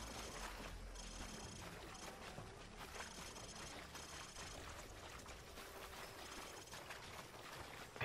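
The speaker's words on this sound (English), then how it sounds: "Vehicle's approaching." An approaching vehicle rumbles as a steady, loud, broadband engine wash throughout, in a militia-held area in Call of Duty: Modern Warfare 3, with no talking.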